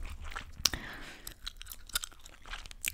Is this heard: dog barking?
no